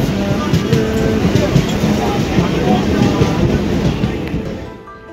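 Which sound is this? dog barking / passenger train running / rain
passenger train running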